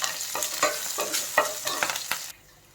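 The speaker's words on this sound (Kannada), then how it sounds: "ಇದು ಒಂದು 2 ನಿಮಿಷ ಫ್ರೈ ಆಗಬೇಕು" Slit green chilies sizzling in oil in a pan for a Kerala-style mushroom curry, stirred with a few scraping strokes that give a rough rhythm, then cut off abruptly into near silence.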